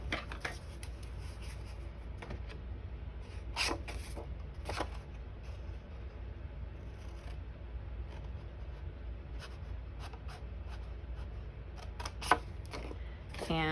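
Scissors snip through a paper template in short, crisp cuts with rustling paper handling between them, close and quiet, ending in a sharper snip.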